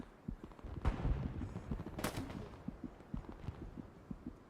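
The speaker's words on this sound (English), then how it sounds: "He's shooting at me." Gunfire in an online video game: a string of quiet, distant shots with irregular sharp cracks and a couple of louder bursts, over low rumbling background. No speech.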